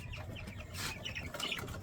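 Several Hubbard chickens cluck and chatter close by in short, overlapping calls against a steady outdoor background.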